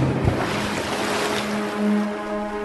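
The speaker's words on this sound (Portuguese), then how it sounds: "Arão levantou o bastão e bateu no rio." River water surges and splashes in a steady, full wash of sound that swells slightly midway, with no voices over it.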